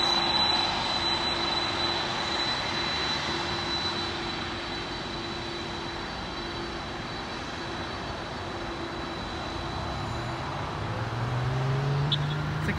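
A Boeing 747 Polar Air Cargo freighter comes in to land at LAX, its engines a steady, broad roar that holds loud and even throughout with a low drone rising near the end, no talk over it.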